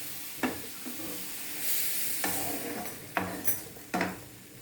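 French toast fries in a pan with a soft, steady sizzle. A utensil clinks and scrapes against the pan a few times, close and quiet, with no talking.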